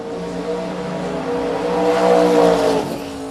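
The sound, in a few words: pair of drag racing cars at drag strip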